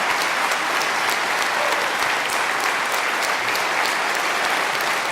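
Sustained, even applause from a sizable debate audience fills the whole stretch, steady and unbroken.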